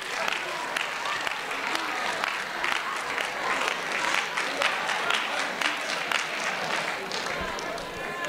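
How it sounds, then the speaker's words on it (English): A school audience applauds a volunteer at a magic and mentalism show, steady moderate clapping with a few cheers and faint voices underneath. "Give Sarah a round of applause."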